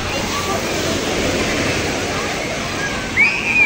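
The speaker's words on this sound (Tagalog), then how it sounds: "Wave nga eh. Grabe oh, lakas oh." Strong waves splash and slosh at a resort in a loud, continuous rush of churning water close by, with a brief voice rising over it near the end.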